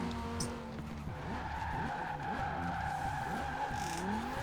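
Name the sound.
car braking and skidding in video game Forza Horizon 4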